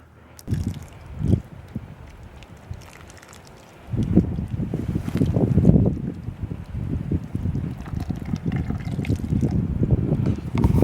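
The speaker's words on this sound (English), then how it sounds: "I'm just going to use that as my waterer" Water poured from a small paint bucket onto cantaloupe seedlings, soft splashing and trickling that swells after a quiet start and continues steadily close to the microphone.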